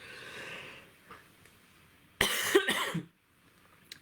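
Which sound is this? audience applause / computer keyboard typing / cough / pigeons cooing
cough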